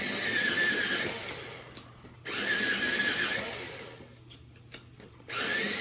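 A metallic colored pencil is sharpened in a sharpener, with two or three bursts of close, whirring grinding separated by short quiet gaps and no speech.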